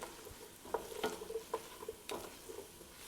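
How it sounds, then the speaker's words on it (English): Vegetables sauteing in a pot with garlic, rosemary and bay leaf as a soup base, with close, intermittent spoon knocks and stirring scrapes over a light, steady sizzle. "I always like to add the aromatics, which are like garlic and rosemary and bay leaf, while the vegetables are still sauteing"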